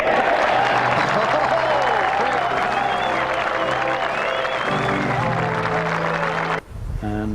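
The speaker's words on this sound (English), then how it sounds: "Listen to the cheer if it goes in." A golf gallery at the 1998 Presidents Cup roars and applauds as a putt drops, a loud sustained wave of cheering and clapping with some voices, cutting off abruptly near the end.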